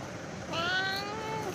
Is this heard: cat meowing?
yes